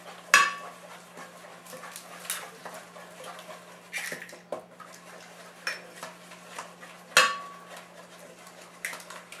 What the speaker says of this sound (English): let's break those eggs in here